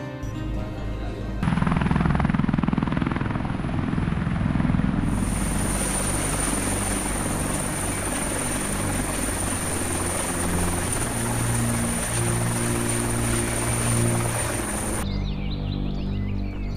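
A military helicopter flies through a steady, loud rotor and turbine drone that holds for most of the span over mountainous terrain, with a high whine entering partway through and cutting off near the end.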